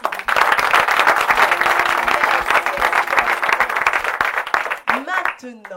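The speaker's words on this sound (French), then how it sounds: "On les applaudit fort." Audience applause at a Christian youth gathering, a loud sustained burst of clapping from a crowd that fades near the end as a voice begins speaking.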